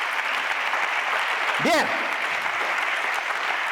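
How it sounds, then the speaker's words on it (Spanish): Church service congregation applauds with a sustained, fairly loud wash of clapping that runs through the whole stretch, while a single voice speaks briefly over it. "denle un aplauso a la palabra de Dios en esta tarde"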